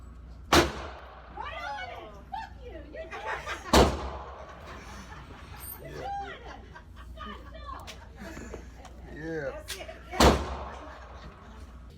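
A student fires a gun at a shooting range: three loud, sharp shots spaced several seconds apart, with excited voices talking and laughing between them.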